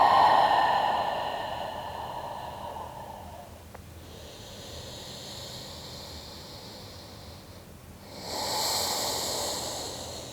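A big out breath during a pre-surgery ACL yoga stretch, upper body hanging loose; a soft breathy exhale rushes out at the start, then quiet hiss, with another airy breath swelling near the end.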